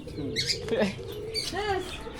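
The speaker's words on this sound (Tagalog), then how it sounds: "ang ganda ng mga ibon dito" Birds at a pigeon and dove loft, with soft coos and short chirps at moderate distance, mixed with faint background voices.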